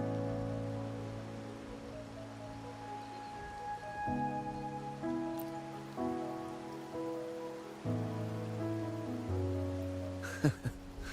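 Steady video-game rain patters on surfaces as soft background under sustained music notes, with no talking.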